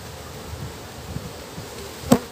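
Honeybees from a very large swarm buzz around an opened hive while frames are moved during preparation for honey production; a steady low drone hums throughout, with a sharp knock near the end.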